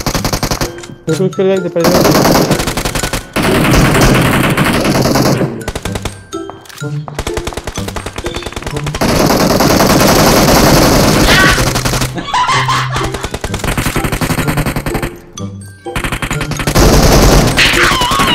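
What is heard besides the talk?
gunfire in the video game BGMI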